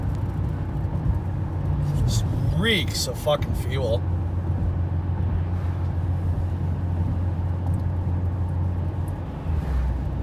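A ten-year-old Ford Edge rated at 285 horsepower cruises at highway speed around 80, its engine and road noise a steady low drone inside the cabin, with someone talking briefly early on.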